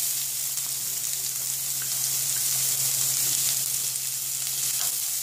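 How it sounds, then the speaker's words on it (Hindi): Chopped onions fry steadily in a pan with chilli and ginger, a close, even sizzle and hiss that carries on without pause, with faint occasional stirring. "प्याज को थोड़ा फ्राई करते हैं।"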